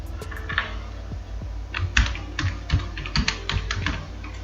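Typing on a computer keyboard: a run of quick, close key clicks in an irregular rhythm over a steady low hum, with no talking.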